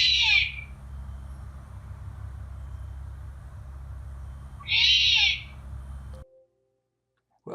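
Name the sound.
owl screech recording played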